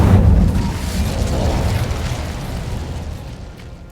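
A fiery Incendio spell blast goes off in Hogwarts Legacy, a loud low burst at the start that rolls into a sustained crackling roar and slowly fades over several seconds.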